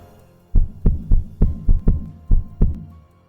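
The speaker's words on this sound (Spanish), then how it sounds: "Pero el latido crecía cada vez más fuerte, más fuerte, más fuerte" A heartbeat sound effect throbs in close, heavy thumps: eight deep beats at a steady pulse, each booming and then fading before the next. It plays alone, with no voices.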